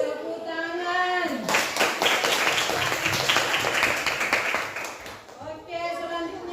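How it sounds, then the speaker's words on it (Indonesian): A class of students applauding their team, a burst of group clapping that starts abruptly and stops after a few seconds, with a teacher speaking before and after. "Tepuk tangan."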